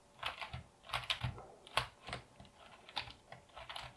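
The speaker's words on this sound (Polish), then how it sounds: "sprawdzamy anti-ghosting nawet takiej dość niedrogiej membranówki" Quiet, rapid clicking of keys on a Rebeltec BigFONT membrane keyboard during an anti-ghosting test, with irregular taps and small multi-key bursts alone with no talking.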